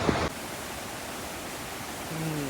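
Waterfall in Oyama Creek gorge, a steady broadband roar of falling water from a short distance, continuous and unbroken, with a brief louder rustle at the start.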